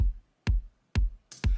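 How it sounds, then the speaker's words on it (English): Four dry, punchy kick drum hits with deep boomy lows and a short decay, evenly spaced about half a second apart. "I have this kick sample loaded up with no processing that sounds like"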